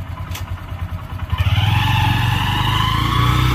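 A Honda SP 125 motorcycle pulls away in first gear at night, its engine note rising into a steady, loud revving drone that holds close to the rider.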